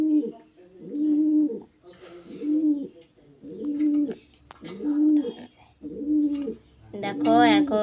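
A domestic pigeon nesting beside its eggs in a clay pot coos close by in a steady series of about six soft, throaty calls, evenly spaced with short pauses.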